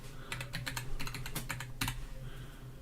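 Keys clattering on a computer keyboard while lyrics are entered into worship presentation software, a quick close burst of irregular clicks with short pauses, no voices.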